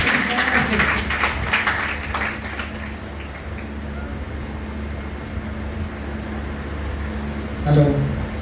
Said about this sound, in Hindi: जोर से तालियां बजा दीजिए सर।